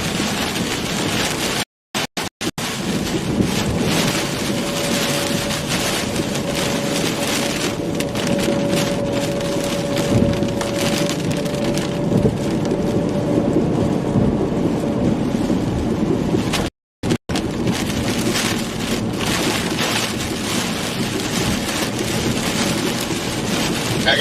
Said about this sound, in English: there's some quarter-size hailstones coming down now